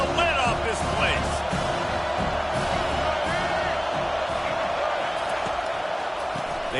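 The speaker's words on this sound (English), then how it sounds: "Third down, and this crowd is tearing the lid off this place." A stadium crowd roars on third down in the College Football 25 video game, a steady dense wall of cheering and shouting that fills the clip, with a commentator talking over it.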